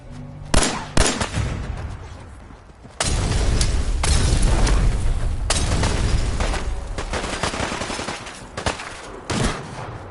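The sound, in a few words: gunfire in the video game Fallout 4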